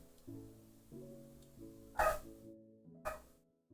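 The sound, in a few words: dog barking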